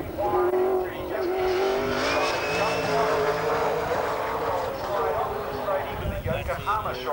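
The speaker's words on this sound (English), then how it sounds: "So Nick now about to start his flying lap" Race car starting a flying lap at the 1997 Bathurst 1000, a rising and falling engine whine passing amid crowd noise, with a commentator talking over it throughout.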